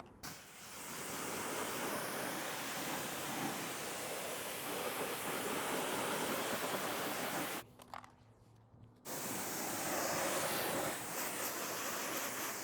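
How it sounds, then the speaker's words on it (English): A garden hose rinses a Tesla wheel with a steady, close hiss of spraying water that stops briefly for about a second, then resumes. "So let's go ahead and rinse it down."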